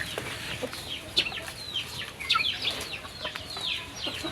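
Chickens cluck and squawk in a continuous, busy chatter near a newly built backyard shelter, with several birds calling over one another at close range.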